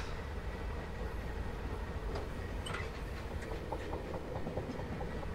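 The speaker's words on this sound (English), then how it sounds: "I reckon the train's probably got some severe wheel flats now." A BR Class 56 train on the Hastings Line runs with severe wheel flats, giving a steady rumble with faint rhythmic clicks and knocks from the wheels, heard from inside or nearby without speech.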